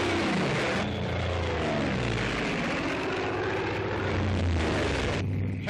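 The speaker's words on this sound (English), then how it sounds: "Hellcat, the deadliest thing on wing." A Grumman Hellcat fighter's piston engine drones in flight, a steady loud propeller roar with wavering pitch, heard alone on a wartime newsreel soundtrack.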